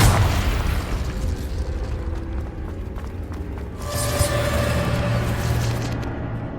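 Spell blasts and explosions from Bombardo and Confringo casts in Hogwarts Legacy inside a cave, booming bursts over mechanical clatter, fairly loud and steady with no talking.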